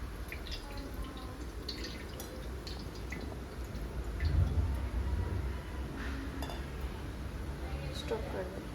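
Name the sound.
water poured over Ganesh idol for ritual bath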